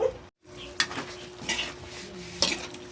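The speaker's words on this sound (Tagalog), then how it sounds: "Ito ay igigisa lang natin ito mga lods. Ang ating pusit." Squid being sautéed in a pan, a low sizzle broken by three or four clattering strokes of a metal utensil against the pan, close by with no talking.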